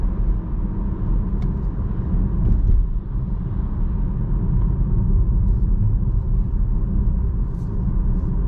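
Volkswagen ID3 electric car on the MEB platform accelerating, heard from inside as a steady low rumble of road and tyre noise with a faint motor whine, even in level throughout.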